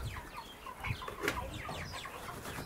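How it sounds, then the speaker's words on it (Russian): A rooster among Kuban hens gives soft, scattered clucks nearby at low volume, short calls spread across a quiet yard with light background rustle. "Такой классный петух"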